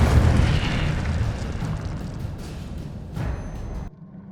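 A fiery Incendio spell cast in Hogwarts Legacy, a dense booming roar of flame that fills the clip loudly, swells briefly near the end and then cuts off abruptly.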